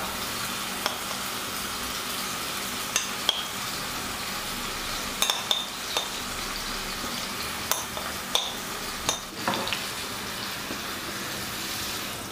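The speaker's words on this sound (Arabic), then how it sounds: "نحطوا الدجاج تاعنا يطيب" Chicken pieces frying in hot oil in a pan, a steady close sizzle throughout, broken by occasional sharp pops and crackles.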